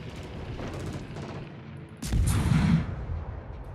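Warship gunfire and explosions in the video game World of Warships, heard as a rumbling backdrop that bursts into a loud booming blast midway, followed by a sustained roar that slowly fades.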